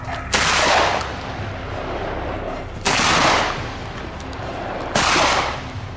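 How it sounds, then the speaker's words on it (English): Three loud rifle shots crack out during a night wild boar hunt, spaced roughly two seconds apart, each with a rolling echo that decays into the dark. "The gunshot rang out, clean and decisive."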